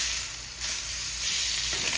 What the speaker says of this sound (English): Now we're going to put it in the pan and we're going to sear it on both sides.